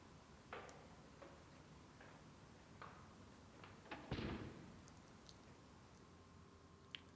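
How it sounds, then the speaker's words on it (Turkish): A door closing in a neighbouring apartment, heard as a single muffled thud partway through, distant and faint amid quiet room ambience and scattered small ticks. "Şimdi bir kapı sesi duydum. Kapandı kapı."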